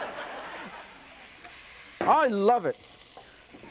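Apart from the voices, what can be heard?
pork chops sizzling as sauce braises in pan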